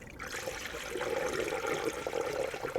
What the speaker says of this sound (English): Now we'll top off the coolant the rest of the way.